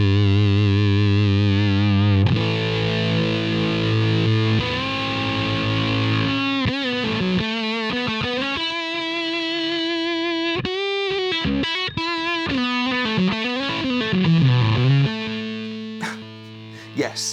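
An electric guitar played through a fuzz pedal with the bias and loud controls both at noon gives sustained, heavily distorted chords followed by a run of bending single notes, loud and compressed throughout.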